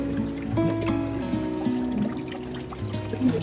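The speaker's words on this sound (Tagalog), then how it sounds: "may tubig na pumupunta dito umaagos" Water trickling and flowing out of the ground in a rural Filipino spot, a steady close-up gurgle and dribble with some bubbling tonal notes running throughout.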